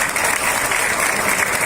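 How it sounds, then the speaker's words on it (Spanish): An audience applauds to welcome musicians, a piano trio with violin and cello, producing a dense, steady wash of clapping that stays loud and close for the whole moment with no voices on top. "vamos a recibirlos con un fuerte aplauso"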